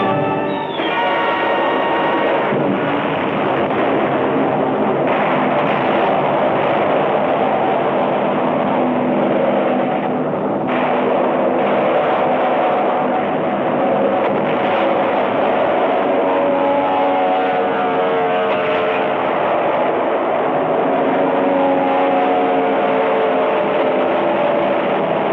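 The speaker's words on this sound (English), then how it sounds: "Jap land-based fighters and bombers reinforced their sea strength." Japanese land-based fighter planes and bombers in World War II combat off Leyte Gulf, their engines a dense, continuous loud roar that drones on without a break.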